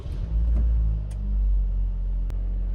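A Toyota Noah's engine starts and settles into a deep, steady idle rumble close by, swelling slightly once before holding even, with a sharp click near the end.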